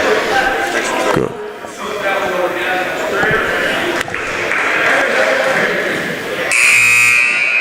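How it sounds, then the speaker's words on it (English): A loud electronic buzzer blares at the end of the first quarter of a high school basketball game between Lower Cape May Regional and Middle Township, rising over crowd noise and voices in the gym. "Jeremiah Camacho's three-pointer at the buzzer of the first quarter gives Middle Township an 11-10 lead"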